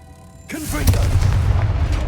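A Confringo fire spell exploding in Hogwarts Legacy, a sudden loud booming blast that breaks in abruptly and then rolls on as a heavy rumbling roar, following a short stretch of quiet ambience.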